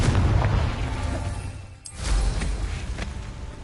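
Confringo fire spell blast in Hogwarts Legacy, a loud roaring burst of flame and impact that fills the clip, with a brief dip before a second heavy whoosh and boom, close and without speech.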